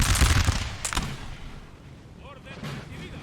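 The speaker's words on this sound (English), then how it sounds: "They are, as you can see, already firing some volleys here." Musket volleys in Napoleonic Total War 3 with troops near a forest: a dense crackle of massed firing at the start, then a sharper report near the one-second mark, fading into a softer battlefield rumble with faint distant shots.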